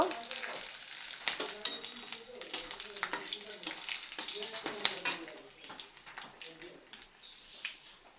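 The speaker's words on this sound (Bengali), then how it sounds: "মশলার মধ্যে জিরে, ধনে, গোলমরিচ দিয়ে দিব তেলে" Cumin, coriander, black pepper and dried red chillies fry in hot oil, crackling and sizzling up close with repeated utensil scrapes and clinks, while a voice talks over the cooking.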